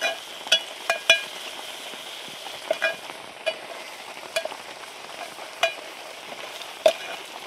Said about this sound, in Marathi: एक मिनिटभर आलं लसणाची पेस्ट त्याच्यात तळून घेते कांद्यात.